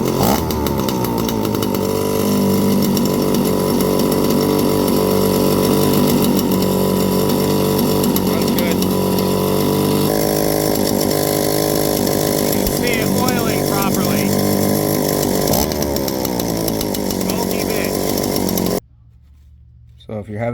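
Stihl 041 chainsaw running after an oiler repair, a loud, close, continuous engine roar with shifting revs for most of the clip before cutting off abruptly near the end, with a voice heard over it.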